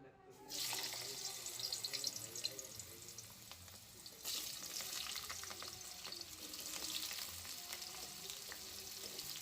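Tap water runs steadily with splashing and rubbing as potatoes are scrubbed under it, the flow pausing briefly then resuming.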